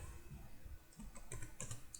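Quiet, close typing on a computer keyboard while entering HTML code, a short run of soft key clicks with a few sharper taps.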